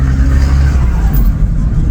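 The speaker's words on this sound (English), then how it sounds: "you can hear the boo every time I change gear" VW T4 van with a custom side exit exhaust, a loud close engine roar under load, a deep booming rumble with a slight dip near a gear change.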